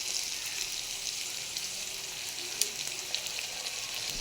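Ridge gourd with peanuts and poppy seeds sizzling in a frying pan, a steady bright crackle with a couple of sharper pops, close and even throughout, no voices.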